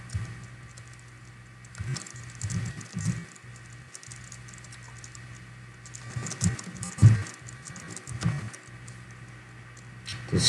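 Computer keyboard typing while a chore title is entered in a parenting app, with irregular light clicks and taps in bursts over a steady low hum, fairly quiet and close, no voices.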